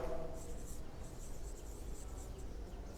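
A pen scratches quietly on paper while a math solution is written out, a faint, continuous rustling scrawl against a low background hiss.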